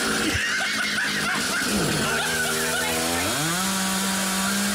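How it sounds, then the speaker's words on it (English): A chainsaw running close and loud throughout, its engine note rising as it revs up and settling into a high steady whine, with brief laughter underneath early on. "We're left with one option. The nuclear option. Yes. The chainsaw."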